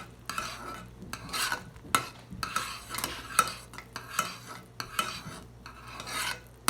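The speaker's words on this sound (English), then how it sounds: "I'm still stirring." A spoon stirs a nut and fruit granola mixture in a pot on a stove, giving repeated scraping and rubbing strokes in an uneven rhythm, fairly close and moderately quiet, with no speech.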